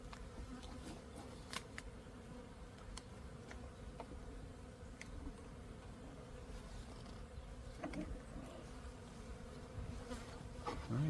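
Honey bees buzz steadily and close around a backyard apiary hive in early March, a dense continuous hum with brief louder passes of individual bees and no talking.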